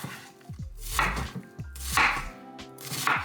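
A knife chops through a yellow onion on a cutting board, three crisp, evenly spaced cuts about a second apart, each with a sharp thunk on the board, close and alone without talk.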